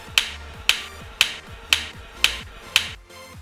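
Hands clap in a gym, six sharp, evenly spaced claps about half a second apart, close and crisp, with no talking over them.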